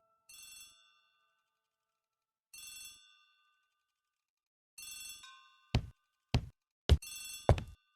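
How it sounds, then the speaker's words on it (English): A telephone in a hall rings in a video game, three short electronic trills spaced apart, followed by a burst of sharp knocks or thuds overlapping a final ring, clear against silence. "The telephone in the hall is ringing."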